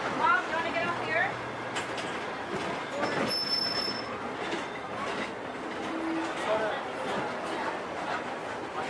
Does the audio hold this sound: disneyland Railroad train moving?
yes